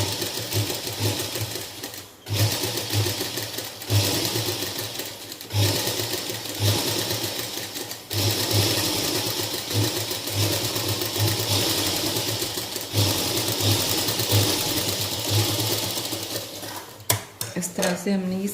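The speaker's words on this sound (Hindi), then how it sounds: "बिल्कुल किनारे पे सिलाई लगाएंगे" A sewing machine stitches the lining along the edge of an embroidered kurta neckline, running in loud rapid bursts separated by short pauses, with a few light clinks near the end.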